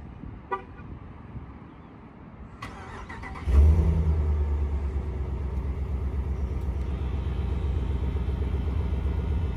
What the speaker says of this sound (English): the truck starts right up.